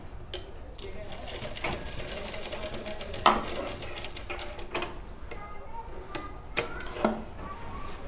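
A sewing machine stitches the end of a kurti sleeve to secure the seam, running in short uneven bursts with sharp ticks and clicks, close and moderately loud throughout.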